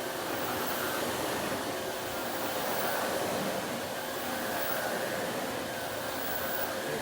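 Oreck Dutchtech DTX 1300 vacuum cleaner running on carpet, a steady broadband motor roar and airflow whoosh held at even level throughout with no speech.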